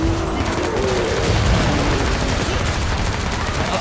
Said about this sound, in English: Shoot that piece of junk.